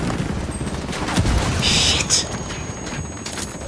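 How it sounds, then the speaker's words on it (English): Mortar fire in Ghost Recon Wildlands, a dull heavy burst of impact noise, loud and close, over a continuous bed of rumbling gunfire and battle noise with crackling high-end debris. "Oh, mortar."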